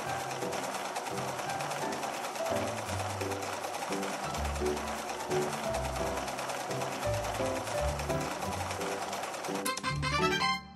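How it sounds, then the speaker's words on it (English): Sewing machine sewing clothes in a dress-up video game, a steady stitching drone under bouncy game music, ending in a quick rattling flourish. "Let's sew the pieces together."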